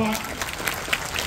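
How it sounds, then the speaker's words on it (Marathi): Audience applause at a book festival event, a dense, steady wash of clapping that fills the clip at an even level, with a brief voice at the very start. "एकदा जोरदार टाळ्या वाजवा."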